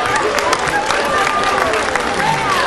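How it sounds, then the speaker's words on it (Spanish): A comedy show audience applauds and cheers throughout, a dense, loud wash of clapping with crowd noise and some voices. "Si van a aplaudir, que sea parejo"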